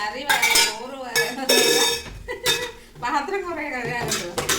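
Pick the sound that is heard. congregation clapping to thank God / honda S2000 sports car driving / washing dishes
washing dishes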